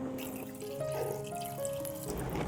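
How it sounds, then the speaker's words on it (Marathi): A small amount of water is poured over jackfruit seeds in a pot for boiling, making a short, close, steady trickling splash with no voices. "उकडण्यासाठी थोडंसं पाणी घालायचं।"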